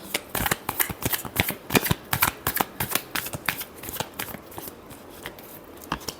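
Tarot cards being shuffled by hand during a reading, a rapid run of crisp riffling flicks and slaps in irregular bursts, close and fairly loud, with no one talking.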